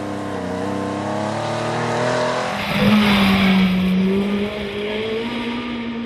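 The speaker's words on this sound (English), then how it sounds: "they battle to keep the big 3-litre Porsche in a straight line" A big 3-litre Porsche historic rally car races along a stage, its engine rising and falling through the gears under strain. Tyres squeal partway through as it passes close by, loud and steady.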